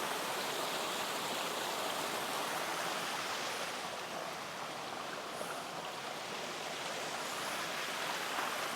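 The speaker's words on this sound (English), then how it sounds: "Look at the waterfall." Water pours and rushes steadily at a waterfall and stream along Big Gunpowder Falls Trail after recent rain, a dense, continuous roar close by with no voices.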